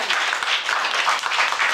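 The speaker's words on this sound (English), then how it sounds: "Can we all clap for Willem?" An audience at a Waldorf school in Nairobi claps for Willem, a brief, dense burst of steady applause from a group of people close by.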